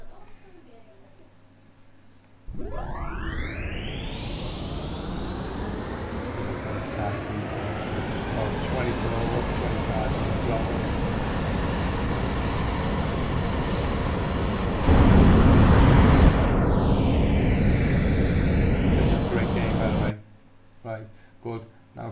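An aircraft in the game Nuclear Option spools up from silence into a rising engine whine and roar, building to a loud sustained thrust, swelling louder near the end before cutting off abruptly.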